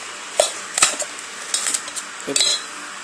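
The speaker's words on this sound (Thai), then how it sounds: "หั่นให้มันเล็กๆก่อนเลย" A guava is being cut into small pieces with a knife on a board in a kitchen, giving a few sharp clacks and scraping taps at irregular intervals. The sounds are close and there is no speech.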